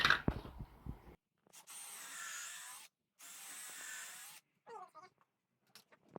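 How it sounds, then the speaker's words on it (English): Pilot holes being drilled into a workbench for the bolts that hold its feet or wheels: a few short bursts of a drill whirring at close range, separated by silent gaps, with some clicks and handling noise between. "I'm going to just drill holes for the bolts that are going to hold the feet down,"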